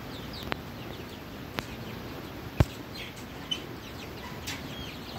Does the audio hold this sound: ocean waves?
no